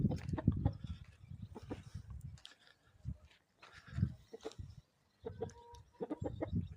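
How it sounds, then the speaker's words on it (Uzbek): A very young incubator-hatched chick peeps repeatedly on a farm, with other fowl clucking nearby, a busy, moderately close mix of short chirps and bird calls. "Jo'jamiz o'ta yosh."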